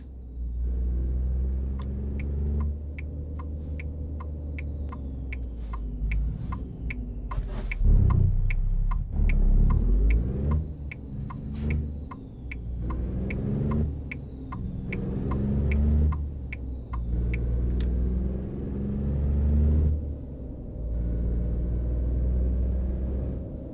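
Truck hauling a fruit trailer in American Truck Simulator, a loud steady diesel rumble with repeated sharp air-brake hisses and gear changes over nearly half a minute, no voices.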